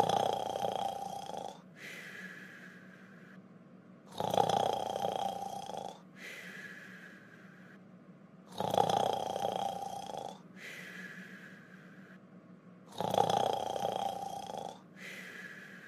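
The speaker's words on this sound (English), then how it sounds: "Why you sleep in here, and snore like a pig" Cartoon character Caillou snores while asleep, deep rasping inhales followed by lighter whistling exhales, repeating in a slow, steady rhythm of about four cycles, loud and close.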